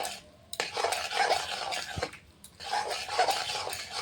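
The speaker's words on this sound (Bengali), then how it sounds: "শাকটা এখন আমি ঘোটা দিয়ে দেবো ভালো করে" Cooked spinach and fenugreek greens with potato mashed in a pan with a wooden masher, giving close scraping, squelching and clattering strokes in two bursts separated by a short pause, with no talking.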